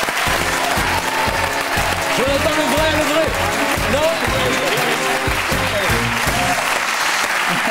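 A live French radio or TV studio audience applauds steadily throughout, dense and sustained clapping while someone talks and laughs over it.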